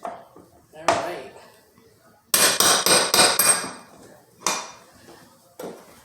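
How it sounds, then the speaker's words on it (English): A hammer taps plank flooring into place during a room installation: a single knock, then a quick run of five or six sharp, loud blows, followed by two more isolated taps, close by with quiet gaps between. "And then we're going to use our hammer to install it, like so."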